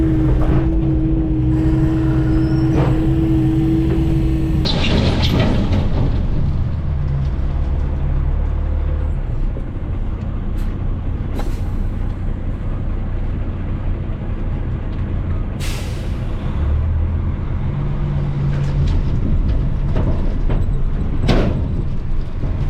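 A heavy truck hauling a load of concrete away from a cottage bridge-removal site, with a loud, continuous engine rumble and grinding, brief hissing and clunks, fairly close and steady throughout, no talking.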